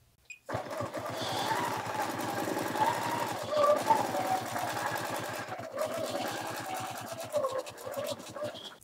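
Sure Stitch Elite quilting machine running on a Cutie Breeze quilting frame with new needles, a steady rapid mechanical stitching hum with fine rhythmic ticking that carries on almost unbroken, close and fairly loud.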